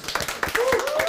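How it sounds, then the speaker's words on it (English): Scattered audience clapping at an event honouring youth participation work in the Netherlands, sharp claps spaced out rather than a dense roar, mixed with overlapping voices and a rising tonal sound near the end. "I think that deserves more than just a round of applause."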